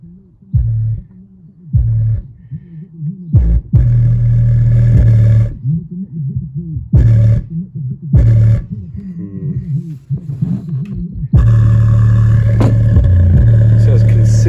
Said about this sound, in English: this has considerable port noise.